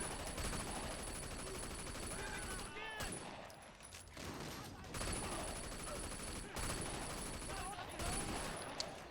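Machine pistol gunfire in the video game Sleeping Dogs, rapid bursts of shots mixed with other gunfire in a hectic firefight, fairly quiet overall, with a person talking over parts of it.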